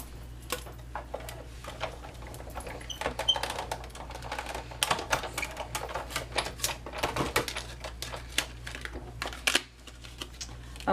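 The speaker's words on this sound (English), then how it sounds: "we're going to cut out a piece of the Pear Pizzazz, and we're going to use the Stitch Shapes framelits" A Big Shot die cutting machine, fitted with the largest oval Stitch Shapes framelit, cuts a piece of Pear Pizzazz card stock with a busy stream of close mechanical clicks and ratcheting taps as it is cranked through.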